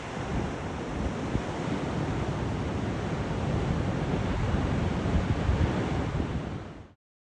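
Ocean surf rolls steadily onto a beach on the Sokcho coast, a continuous loud wash of breaking waves with wind noise on the microphone, then cuts out abruptly near the end.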